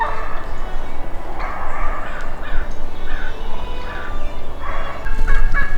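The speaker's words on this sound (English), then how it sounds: "This is what happens when I try to film the turkeys." Turkeys gobble near a barn in a loud, close outdoor chorus of rapid warbling calls that rise and fall repeatedly over rustling background noise.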